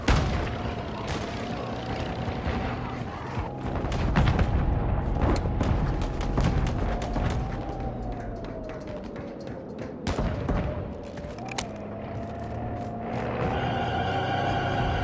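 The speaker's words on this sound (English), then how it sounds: "Friendly cruise missile inbound." A cruise missile strike in Call of Duty: Modern Warfare II brings a barrage of sharp explosions and gunfire-like blasts over a steady droning engine hum, dense and loud throughout, with echoing rumbles trailing between impacts.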